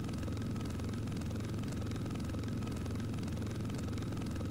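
A helicopter flying in the Roblox game Blackhawk Rescue Mission 5: a constant, loud, close rotor chop with an even, rapid pulsing thump over a low engine drone, steady throughout with no talking.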